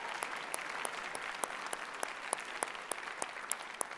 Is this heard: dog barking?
no